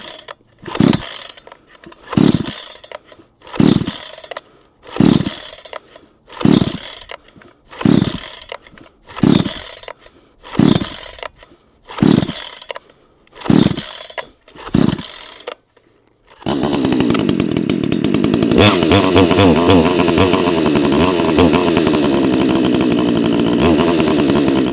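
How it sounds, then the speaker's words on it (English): A new VEVOR 62cc gas chainsaw resting on the ground for its first start: about a dozen rhythmic pull-cord rasps, then the engine catches and roars steadily at close range. "this will be the very first time starting it"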